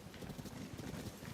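Horse hooves clip-clop steadily through heavy rain in Zelda: Tears of the Kingdom, a dense, continuous patter with no voices.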